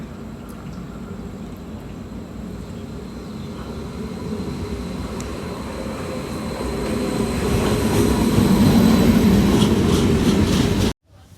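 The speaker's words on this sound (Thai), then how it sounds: "รถไฟนั่งมาแล้ว" A train rolls into a station platform with a steady low rumble that builds louder toward the end, faint metallic squeals above, then cuts off abruptly.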